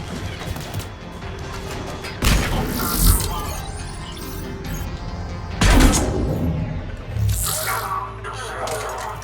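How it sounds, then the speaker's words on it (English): A flashbang grenade goes off during combat in the video game Mass Effect 3, with loud crashing, shattering bursts repeating three times over a constant din of battle noise. "Ah. Flashbang."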